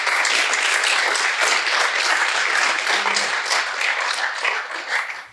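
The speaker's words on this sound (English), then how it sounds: "Give him a round of applause." Audience applause at a workshop gathering, a dense sustained clapping from a crowd that holds steady and then tapers off at the end.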